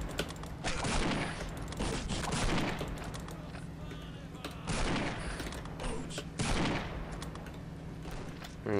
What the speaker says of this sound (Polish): Snajperka świetnie działa na małe odległości.